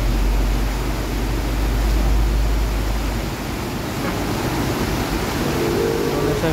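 Floodwater in a creek after a sudden downpour surges with a loud, broad roar, nearby and continuous; a deep low rumble under the rush drops away about halfway through while the churning water carries on alone.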